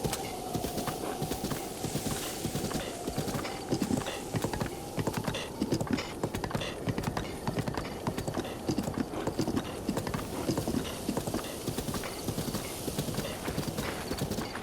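Horse hooves clip-clopping at a steady, rapid rhythm while riding in the Breath of the Wild video game, loud and continuous throughout with no voices.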